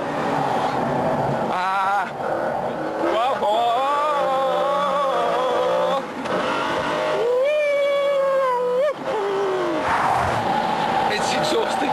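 A McLaren F1 supercar driven hard, its engine revving and howling through repeated gear changes with sharp pitch rises and brief drops between shifts, loud and close.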